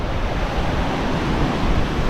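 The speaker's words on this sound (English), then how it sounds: "the wind's really blowing here, sort of whistling in the ear" Strong seaside wind at Vung Tau, Vietnam roars steadily and buffets close against the microphone, a continuous gusty rush with surf-like noise and no voices.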